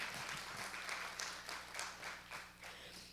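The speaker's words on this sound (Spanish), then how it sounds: "Un aplauso para Jesús." Congregation clapping during a church service, a faint and uneven burst of applause with several distinct louder claps and a low steady hum beneath.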